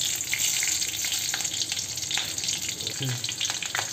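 Cumin seeds fry in hot oil as chilli goes in, making a loud continuous crackling sizzle with occasional stirring scrapes and a brief low murmur of voice.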